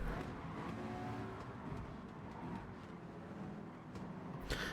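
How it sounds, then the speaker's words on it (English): A Nissan race car in the Rolex 24 Hours of Daytona racing video game drives past amid other engines, a steady layered motor drone with a brief louder swell near the end. "We're going to let the Nissan here go by."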